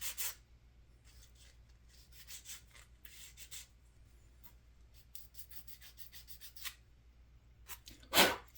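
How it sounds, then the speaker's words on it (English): Plastic parts from a 1957 Cadillac Eldorado Brougham model kit being deburred and deflashed after sprue removal, giving soft, intermittent scraping and rasping strokes in short bursts, close and fairly quiet, with a sharper scrape near the end. "let's go ahead and deburr"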